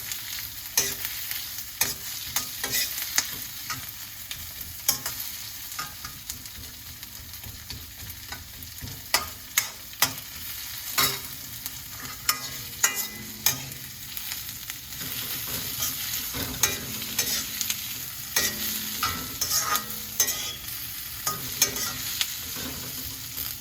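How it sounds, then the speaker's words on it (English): Onion frying in an iron pan, a continuous soft sizzle with frequent stirring clicks and scrapes throughout, close and fairly quiet, with no voices. "As the onion is getting cooked a little bit"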